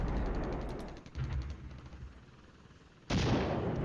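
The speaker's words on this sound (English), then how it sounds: "incoming artillery" Artillery fire in the Flashpoint Campaigns wargame: rumbling blasts and booms that fade into a quieter lull, followed by a sudden loud burst of heavy fire near the end.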